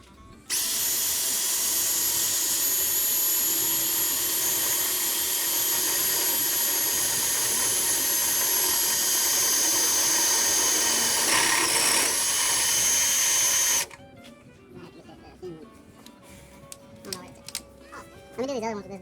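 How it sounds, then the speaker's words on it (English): A power drill whines loudly and steadily for about thirteen seconds drilling through metal for Cummins swap motor mounts, then cuts off, leaving quieter clatter and faint voices. "I drill it that way we can slide the bolt up in there."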